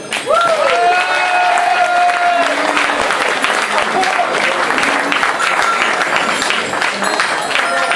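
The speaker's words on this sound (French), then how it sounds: "Je crois qu'on peut l'applaudir." Loud, sustained applause from a crowd at a carnival medal ceremony, steady clapping throughout with a few scattered cheers and voices briefly audible at the start.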